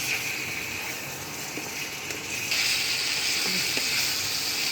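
Spices sizzle steadily in oil in a kadai for a chicken and potato curry, a continuous close frying hiss that grows slightly louder partway through, with no talking.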